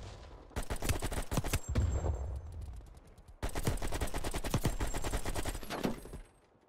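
Loud, sustained automatic AK-47 fire in Black Ops Cold War multiplayer, two long bursts of rapid rattling shots separated by a brief gap, close and dominant with no talk over it.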